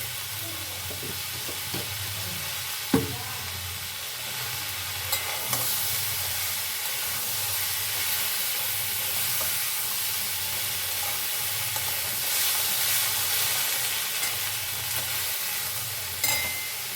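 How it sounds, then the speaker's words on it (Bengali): A continuous sizzle fills the scene as a cumin, ginger and chili paste fries in a pan, with occasional spoon scrapes and knocks from stirring, close and steady, with no voices. "এইভাবে এখন আমি নাড়াচাড়া করে কষিয়ে যাব"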